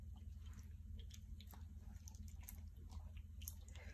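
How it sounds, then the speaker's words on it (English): A dog chews on paper, giving soft, wet, squishy bites and faint crackles that repeat steadily at close range in a quiet room. "My dogs get into everything, so she's chewing on that."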